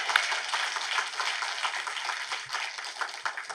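Congregation clapping loudly during a Friday all-night service at a church, a dense continuous patter of many hands with no voices over it.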